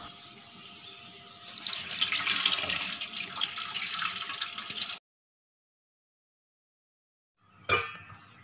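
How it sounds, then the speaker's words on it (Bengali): Mung dal lentils being washed by hand under a running kitchen tap, a steady broadband splash of water that swells louder midway, then cuts off abruptly, followed by a short clatter near the end. "100 গ্রাম মুগের ডাল আমি নিয়ে নিলাম, নিয়ে ভালো করে চটকে চটকে এটা ধুয়ে নিচ্ছি।"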